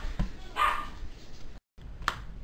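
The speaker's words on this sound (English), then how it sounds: "the dog barking in the background" A dog barks in the background during a Yu-Gi-Oh card game session, a few short distant yips and barks scattered over a couple of seconds, faint against the room.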